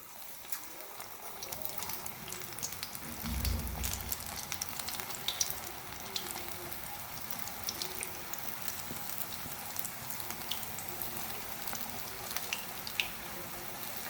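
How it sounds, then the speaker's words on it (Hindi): Pakoras frying in hot oil in a kadhai, a soft, continuous sizzle with faint crackles and a brief low thump of handling, quiet and steady throughout. "और पकोड़े शामिल करेंगे कढ़ाई में"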